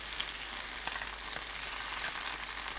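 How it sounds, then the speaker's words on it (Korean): Green onion (daepa) stalks pan-grilling, producing a steady soft sizzle and faint crackling pops, close and continuous with no voices. "잎을 먼저 꺼내고 줄기 부분은 천천히 더 구워줍니다"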